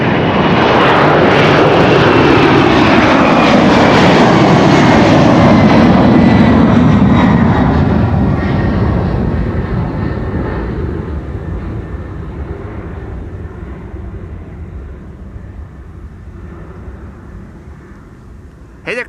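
A 32-year-old Boeing 767, flight 947 to Washington, departs Amsterdam Schiphol with a loud, close jet roar whose pitch sweeps downward as it passes, then recedes into a fading rumble, ending with a brief sharp click.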